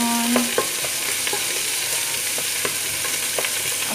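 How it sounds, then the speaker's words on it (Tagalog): Onion sautéing in a pan for chicken curry gives a steady close sizzle, with a spatula scraping and clinking against the pan at a regular stirring pace, and nobody speaks. "Haluin lang yung onion"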